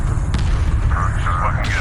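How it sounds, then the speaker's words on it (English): Missile bombardment explosions from the Homeworld 2 Remastered space strategy game, a steady heavy low rumble with dull booms throughout, under a continuous voice talking. "they've already started bombarding us with missiles"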